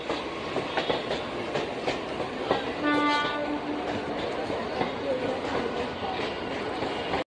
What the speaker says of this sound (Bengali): এখান থেকে ট্রেন ছেড়ে বেরিয়ে যাচ্ছে